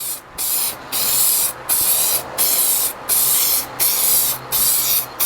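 Spray gun hissing out lava orange pearl candy paint in rapid bursts, about seven loud, close sprays separated by brief pauses, with no one talking.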